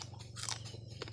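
Crisp bites into raw wild bitter gourd (ampalaya) picked on an island, a few close, brittle crunches over a low steady background hum.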